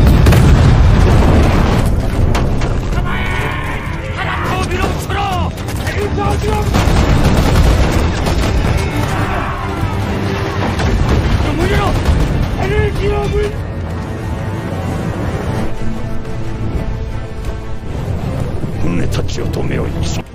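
Cannon fire booms from Joseon panokseon warships in a naval battle against a Japanese fleet, with dense, continuous blasts and rumbling explosions that stay loud throughout, mixed with voices and dramatic music.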